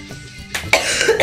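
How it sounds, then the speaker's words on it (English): A person coughs nearby: a short harsh burst, then a louder, longer cough, with no talking. "Coughing. Coughing."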